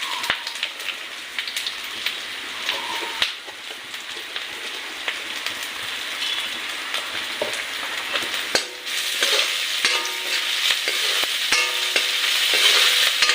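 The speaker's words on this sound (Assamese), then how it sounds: "আদা নহৰু কেঁচা গন্ধটো যোৱালৈকে ভাজিব লাগে।" Ginger-garlic paste and whole cumin sizzle in hot oil, a steady bright crackle with occasional stirring scrapes and clicks, growing slightly louder toward the end, with no talking.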